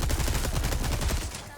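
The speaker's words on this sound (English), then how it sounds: "Shooting." Rapid gunfire from the video game Resident Evil 4 Separate Ways, a dense burst of quick repeated shots lasting about a second and a half, loud and continuous before easing off.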